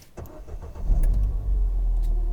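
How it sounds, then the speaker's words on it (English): A Ford Fiesta ST2 with keyless start cranks over after a click and settles into a steady, deep idle, heard close and alone with no talking. "Let's get the engine on and let's go for a drive."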